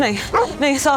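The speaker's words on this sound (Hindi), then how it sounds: "ये कुत्ते इतना क्यों भौंक रहे हैं?" Dogs barking and yipping in a Pakistani TV drama scene, close and repeated in short bursts, mixed in with tense talk from a man and a woman.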